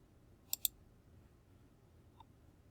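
Two quick, sharp clicks close together on a tablet screen while connecting it to a laptop, followed a moment later by a single fainter tap, with quiet room tone in between.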